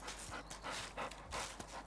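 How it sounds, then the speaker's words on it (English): A dog lies close by, panting rapidly in an even rhythm of short huffing breaths, fairly quiet and near. "My dog returned, lay down beside the chair, and catching the stick between his paws, gnawed at it"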